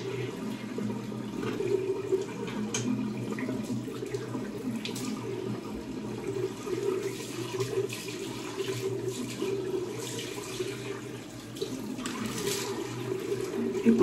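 Water runs steadily from a tap into a sink while the face is rinsed after a shave, a soft continuous splashing stream heard fairly quietly and close, without speech.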